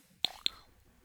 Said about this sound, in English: you can hear my mechanical keyboard click, click, click, click, click in the background